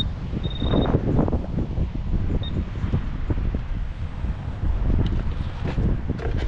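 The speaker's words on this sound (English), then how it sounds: "Windy out here." Wind buffets a microphone outdoors in a park, loud and gusty, with continuous low rumbling that swells and eases throughout.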